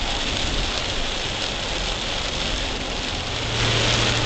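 Rain drumming on a 2023 VW ID.4 Pro S AWD electric SUV while driving, a steady dense hiss of drops on the body with low road rumble underneath and no talk.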